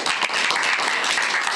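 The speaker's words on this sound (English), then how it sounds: "clap for that" Short burst of audience applause at a school board meeting as an 8th grade basketball player is introduced, steady dense clapping filling the whole moment.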